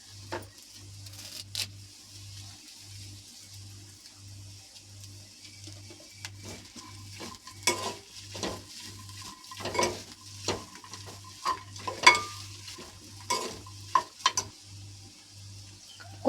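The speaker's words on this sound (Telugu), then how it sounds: "వేసుకొని 2 నిమిషాలు దోరగా వేయించుకుందామండి" Mint and curry leaves fry in a pan for a banana-ball masala snack, a faint, steady sizzle under irregular clinks and scrapes of a spoon against the pan, with a low rhythmic hum pulsing underneath.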